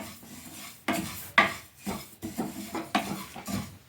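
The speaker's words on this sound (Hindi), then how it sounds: "लगातार चलाते हुए बिना घी के अभी हम पहले इसे भून लेंगे" Sesame seeds roast dry in a pan without ghee, stirred constantly, producing rhythmic scraping and rustling strokes of a spoon against metal in short bursts, quiet and close, with no speech.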